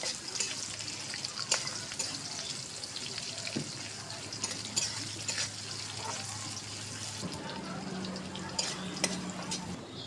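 Chopped onion frying in a pan with cardamom, giving a steady close sizzle with occasional scraping and stirring clatter, while a voice speaks faintly over it.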